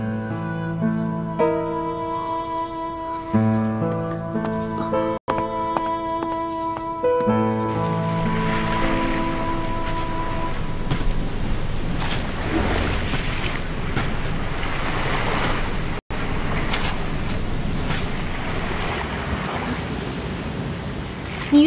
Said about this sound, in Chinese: 你看看，这海边的景色很美吧？